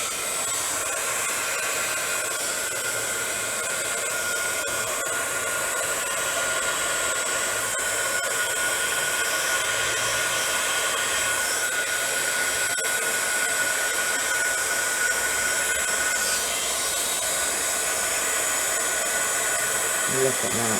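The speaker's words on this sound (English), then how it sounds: "we're going to take our heat tool, and it's going to be a bit noisy" An embossing heat gun melts gold embossing powder on a vellum daisy card, blowing a loud, steady, continuous hiss-and-whir close to the mic for about twenty seconds without pause.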